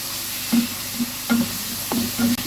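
Potato kofta mixture with chopped green chillies frying in hot oil gives a soft, steady sizzle, broken by several short scraping stirs of a spoon against the pan, with no voices.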